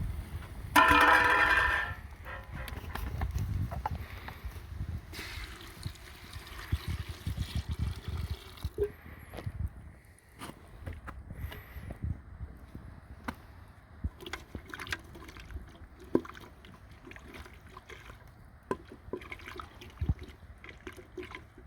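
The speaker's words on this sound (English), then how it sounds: "I'm gonna pour some water in." Water pours and trickles for a few seconds near the start, then gives way to quieter splashing, bubbling and small knocks close by.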